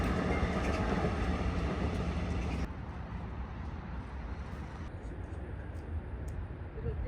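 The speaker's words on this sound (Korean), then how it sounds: "열차는 생각보다 자주 지나가고" A train passes at a distance near Eungbong Station in Seoul, a steady low rumble with faint rail clatter that slowly eases off, heard alone without voices.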